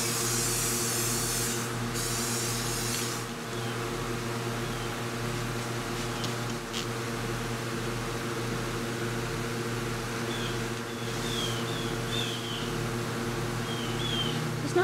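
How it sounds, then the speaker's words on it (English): Two short hissing bursts of spray paint come at the start, then a steady electrical hum with a low pulsing drone continues. "see if I can do a little bit of effect with the spray paint"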